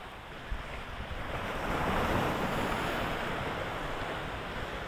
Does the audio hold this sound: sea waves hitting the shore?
yes